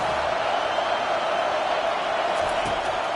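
Stadium crowd noise from a college football video game, Oregon versus Oregon State, forms a steady, dense roar that holds at an even level throughout with no distinct cheers standing out.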